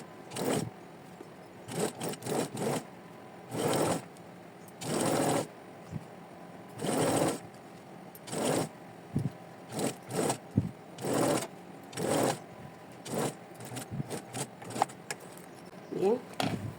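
A sewing machine stitching the waistband of a basic skirt near a zipper runs in repeated bursts of a few seconds each with short pauses between, close and fairly loud, with no talk.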